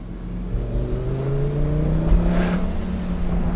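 A 2008 Lamborghini Gallardo Spider's engine winds up steadily under acceleration, a loud continuous rising growl heard close with no talking.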